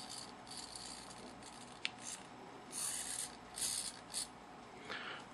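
A small servo motor tilts a 180-degree FPV camera pan-tilt mount up and down, making faint, brief whirring and rasping bursts that come in several short spurts.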